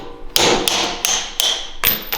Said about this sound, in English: So sometimes we can take something like a 1/2 inch bolt, set on that, and knock that out